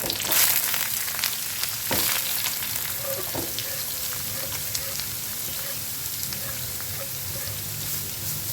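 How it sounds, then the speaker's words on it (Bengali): Chopped onion fries in hot oil with curry leaves, making a continuous close sizzle broken by a few sharp clinks and scrapes of stirring. "কারি পাতাটা দিয়ে ভাজা হয়ে যাওয়ার সাথে সাথে আমি এর মধ্যে অ্যাড করে দেবো কুচিয়ে রাখা পেঁয়াজ"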